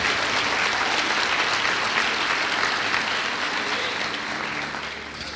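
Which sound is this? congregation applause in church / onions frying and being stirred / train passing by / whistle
congregation applause in church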